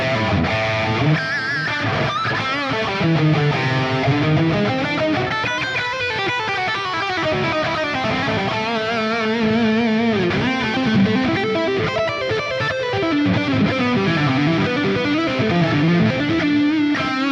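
A Custom Shop Charvel So-Cal electric guitar plays through Axe-Fx patches, a heavily distorted 80s shred tone with fast runs, bends and sustained lead lines, loud and continuous throughout.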